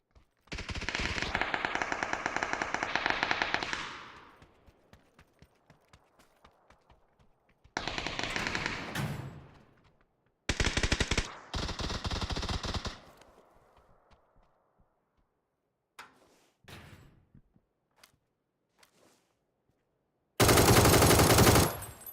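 Automatic gunfire from a Godot multiplayer video game, in loud, sharp rapid-fire bursts: a long opening volley, several shorter bursts mid-clip and a final burst at the end, separated by quiet gaps with faint scattered clicks.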